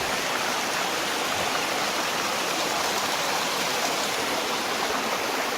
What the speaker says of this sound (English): Not that big of a river.